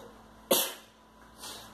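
A single sharp sneeze bursts out, close and fairly loud, then fades into quiet room tone with a faint hiss afterward.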